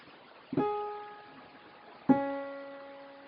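Two separate organ-like keyboard notes from the left-hand pattern of an organ song sound cleanly, each struck sharply and then sustained with a bright, humming tone.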